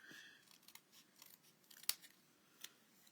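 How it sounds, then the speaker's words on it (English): Scissors trimming a strip of gold paper off a folded greeting card: a few soft snips with one sharper cut near the middle, close and quiet, without any talking. "I'm just going to trim a little bit of the gold off"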